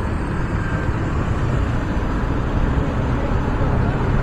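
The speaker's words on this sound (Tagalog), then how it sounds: "Sobrang traffic pa naman dito." Heavy city traffic near City Hall rolls past in a continuous low roar of engines and road noise, close and steady, with a faint voice mixed in.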